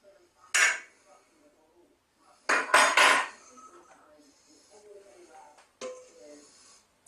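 Roast pork tenderloin in a metal oven tray is handled and flipped, giving a sharp clatter, then a louder cluster of metallic clanks and scrapes, and a final knock against quieter kitchen background.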